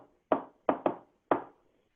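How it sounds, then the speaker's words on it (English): Four sharp, close knocks on a door in a stage play, rapped in an uneven shave-and-a-haircut rhythm: one knock, a quick pair, then a final knock after a short gap, each ringing out into silence. "does a shave and a haircut knock"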